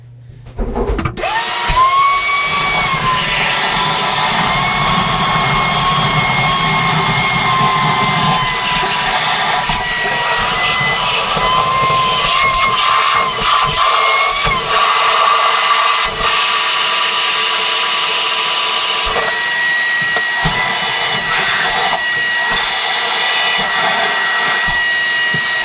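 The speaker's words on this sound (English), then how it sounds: "We're going to suck out all the water out of the tank and the bowl." A wet vacuum sucks water out of a toilet tank and bowl, a loud continuous whining roar with gurgling, slurping changes as water is drawn in, running alone for the whole stretch.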